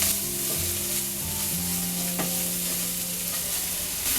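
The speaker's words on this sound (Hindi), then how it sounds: "अदरक और हरी मिर्च के पेस्ट को हम 1 मिनट तक पकाएंगे।" Ginger and green chili paste fries in a pan with onion, giving a steady close sizzle and occasional scrapes of a spoon stirring, with no voices over it.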